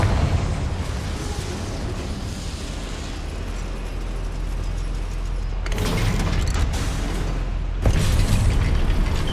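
A Confringo fire spell detonates in the video game Hogwarts Legacy inside a goblin mine, a loud sustained rumbling blast with dense roaring debris, flaring again in two sharper bursts near the end.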